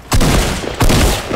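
Gunfire in the video game Fortnite comes as two loud, close bursts of rapid shots, each lasting about half a second with a short gap between them.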